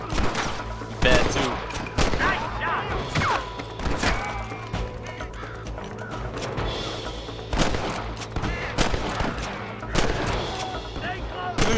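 Repeated gunshots from a Western shootout in the video game Red Dead Redemption, a sharp volley of loud, closely spaced bangs that keeps going across the scene, with in-game music or ambience underneath and a player talking over the shots.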